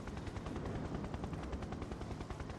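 Rescue helicopter in the video game Air Ranger, flying slanted in the wind: a steady, dense rotor chop and engine drone with rapid pulsing beats, continuous and fairly loud throughout, with no talking.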